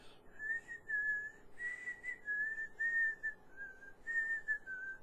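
A person whistles a melody alone, clear sustained notes rising and falling in a slow phrase, close and fairly loud against a quiet background.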